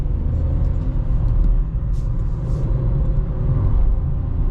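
A 2003 car on winter tires accelerating, its engine rumbling steadily from inside the vehicle, a low sustained drone as it drives along the road, with no voices.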